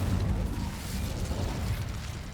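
A fire spell cast in the Hogwarts Legacy video game, a dense, low, rumbling burst of flame that roars steadily for a couple of seconds, with no voice over it.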